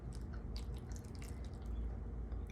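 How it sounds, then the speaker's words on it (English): Water poured into a container of jalapeño, basil and oregano seeds for growing in water, giving a steady close trickle with small splashy drips throughout, heard alone. "these things are really fun because you can pour water in"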